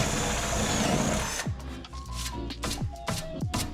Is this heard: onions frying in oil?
no